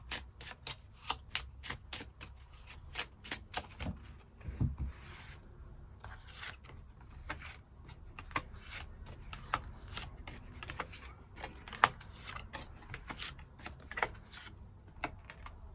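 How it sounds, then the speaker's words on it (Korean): Tarot cards are shuffled and drawn in a long run of quick, crisp riffling and flicking clicks, close and fairly quiet, with no talking. "추가 카드로 일별로 월요일부터 일요일까지 어떤 하루하루를 보내게 될지 추가 카드 뽑아 보도록 하겠습니다"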